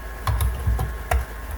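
Keys clatter on a computer keyboard in several crisp, separate taps and short bursts, close and fairly loud, with no voices in between.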